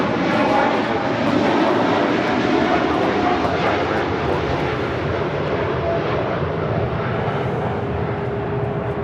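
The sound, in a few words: Cargolux Boeing 747-8 freighter taking off at LAX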